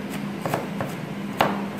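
A knife mincing crushed garlic and shallots for sweet and sour eggplant makes a few sharp, irregular knocks, quiet and close against a low steady hum, with no talking.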